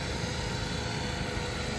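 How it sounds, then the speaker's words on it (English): A greens mower cuts the putting greens of a golf course, its motor a steady, close, unbroken drone with no voices. "And the last thing we're doing is mowing the greens"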